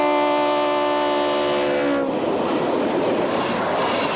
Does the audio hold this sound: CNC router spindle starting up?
no